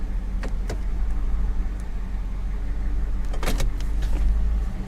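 Power windows run on a used police car with its engine idling, a steady electric motor whir over a low engine hum, with a couple of clicks and thumps, no talking.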